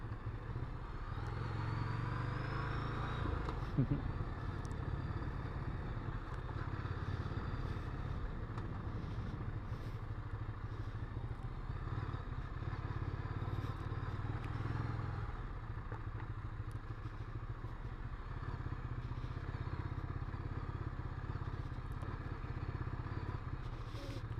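A Ducati Scrambler Icon Dark motorcycle ridden over rough ground, its engine a steady low rumble, with occasional clatter and thumps from the bumpy ride.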